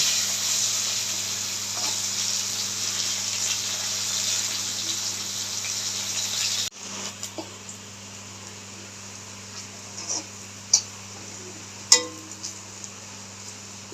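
Bitter gourd frying in a pan of oil, a strong continuous sizzle for several seconds that drops abruptly to a quieter hiss with occasional crackles and clinks.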